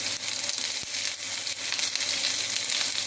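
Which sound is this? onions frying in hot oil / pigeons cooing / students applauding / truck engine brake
onions frying in hot oil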